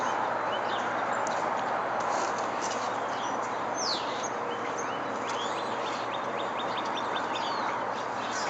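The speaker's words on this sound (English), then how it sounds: "A lot of other birds around this morning too." Birds chirp and tweet in a neighborhood in the morning, many short calls scattered over a steady low background hum, fairly distant and continuous with no talking.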